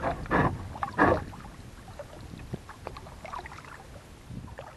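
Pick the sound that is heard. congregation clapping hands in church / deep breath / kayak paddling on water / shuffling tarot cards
kayak paddling on water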